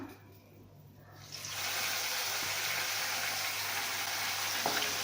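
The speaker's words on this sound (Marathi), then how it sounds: "आता याच्यामध्ये आपल्याला कढीपत्ता घालायचा आहे हिरो थोडं परतून घ्यायचं" Curry leaves and ground masala paste hitting hot oil in a pan, a quiet hush that bursts into a loud, steady, close sizzle after about a second and keeps hissing evenly.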